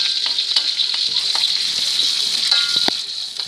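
Garlic, shallots, turmeric and chili stir-fry in hot cooking oil with a steady close sizzle and light scraping of the stirring spatula, no talking over it.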